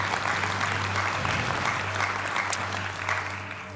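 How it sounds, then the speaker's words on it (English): A church congregation breaks into applause, a steady, dense wash of clapping from many hands that holds for a few seconds at moderate loudness before easing slightly, with no speech over it. "Yeah, I heard a clap. Let's praise God."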